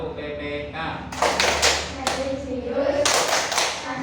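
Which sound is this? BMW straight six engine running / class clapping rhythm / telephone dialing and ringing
class clapping rhythm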